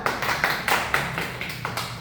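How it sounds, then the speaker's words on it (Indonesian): A few people at an Indonesian fashion podcast clap their hands in short, uneven bursts of claps, close by and fairly loud. "Tepuk tangan."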